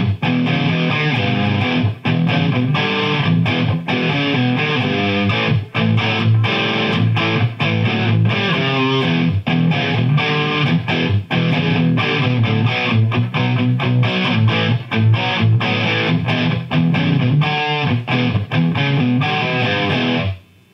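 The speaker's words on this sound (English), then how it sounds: "let's see what this Helix is going to add to the two amps now. A little bit of distortion." Electric guitar played through a Marshall TSL and a Peavey 5150 in stereo, with added Helix distortion, dense loud riffing sustained for about twenty seconds with no talking.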